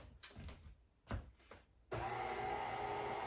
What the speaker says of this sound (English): I'm going to turn on my mixer. It may be a little noisy at first.